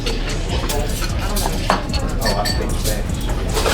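Cutlery scraping and clinking against a plate while a thick-cut tomahawk steak is eaten, a busy close clatter of knife and fork alongside a voice talking.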